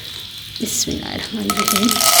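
Popcorn corn kernels drop into a hot pan and sizzle, the frying growing louder and brighter toward the end while a voice speaks briefly over it.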